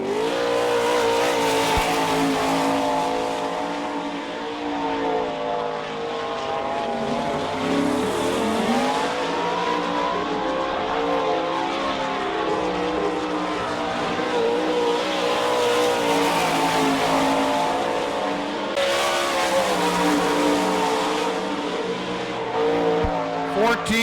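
A sprint car on a qualifying lap at the All Star Circuit of Champions Bauman Memorial in Sarver, Pennsylvania, its loud engine revving and droning with rising and falling pitch as it circles the speedway.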